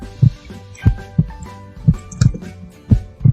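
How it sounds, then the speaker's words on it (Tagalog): Human heartbeat, a steady lub-dub pulse of deep, thudding beats repeating about once every 0.8 seconds, loud and close with nothing else over it. "You can feel your heartbeat."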